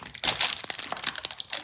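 Plastic cereal packaging being cut open with scissors: a rapid burst of close crinkling and crackling with sharp snips and rustles, loud and busy for under two seconds, with no talk.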